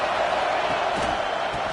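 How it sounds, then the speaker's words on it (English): A dense, steady roar of a large crowd fills the space, broad and continuous with no breaks. "This crowd bringing the energy and noise early."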